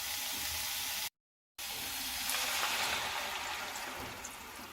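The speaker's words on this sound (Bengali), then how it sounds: "এরপরে আমি এর মধ্যে দিয়ে দিচ্ছি জল।" Water hits a hot pan of ridge gourd and grated coconut, making a steady, close sizzling hiss that briefly cuts out and then swells slightly.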